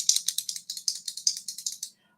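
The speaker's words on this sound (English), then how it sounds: "It could be something like a pen that you have and you can make these clicky sounds with it." A pen is clicked rapidly, about fifteen crisp, light plastic clicks in a quick, slightly uneven run, close and alone, then stopping.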